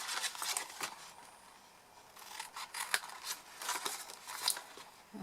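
Scissors snip through embossed card stock in a close, quiet run of short crisp cuts and rasping strokes, irregular in rhythm, with no voices.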